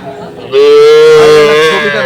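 A cow at a local cattle market in Dinajpur lets out one long, loud, close moo over background market noise.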